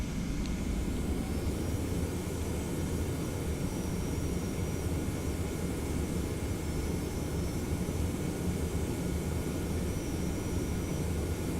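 TFDI Boeing 717 jet engines in a flight simulator on the takeoff roll, a loud steady roar with a high whine held throughout, no talk.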